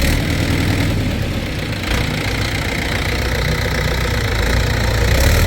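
Farm machinery planting sugarcane in trenches has its engine run up a little, giving a loud, steady, rumbling drone with a slight rise in pitch near the end and no speech over it.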